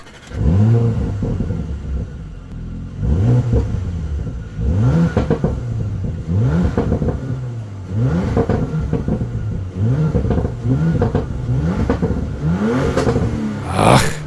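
A Porsche Macan GTS 2.9 V6 engine starts and revs repeatedly, rising and falling in a regular rhythm of sharp blips, loud and close.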